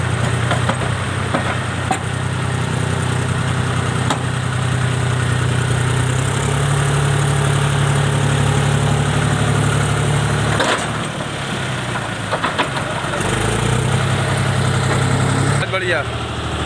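A modified John Deere tractor engine idles steadily with a low, continuous rumble and vibration, close and loud throughout, with a brief dip and change in tone toward the end.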